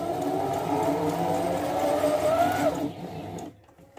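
A Singer MF 201EF sewing machine stitches with a steady, dense mechanical whir that runs for a few seconds, then winds down and stops.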